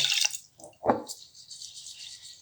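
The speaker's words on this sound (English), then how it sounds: "what I'm gonna do is just pour water in there" Water poured into a pot of uncooked rice for cooking: a steady splashing pour that swells and eases over a couple of seconds, close and fairly clear, with no talking.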